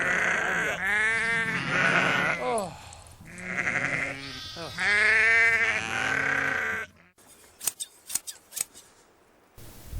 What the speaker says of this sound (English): The sheep are marked with coloured stripes that distinguish Joe's sheep from those of his neighbours who share the same grazing grounds.